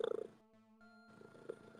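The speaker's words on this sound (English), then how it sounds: "If you hear purring right now, that's Garfield." Garfield the cat purring close by, a quiet rhythmic rumble that pulses briefly at the start and then fades under a low sustained tone.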